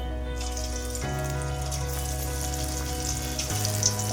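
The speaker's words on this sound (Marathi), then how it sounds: "असंच पूर्ण सगळ्या वड्या भाजून घेऊया" Methi vadi pan-roasting in a hot pan, a steady soft sizzle with a constant hum behind it and a few light clinks near the end.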